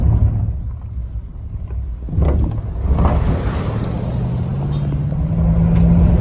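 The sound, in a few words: Border Patrol truck driving past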